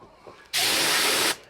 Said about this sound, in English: I'm spraying the glue on here first because then it can tack up.